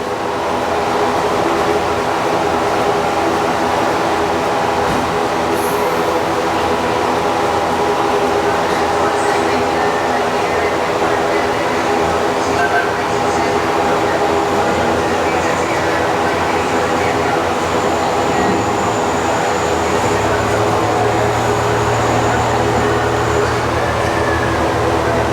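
Gatorland Express miniature train ride rolling along at a theme park, a steady rumble and rattle of the cars throughout with a low hum entering late, under background voices.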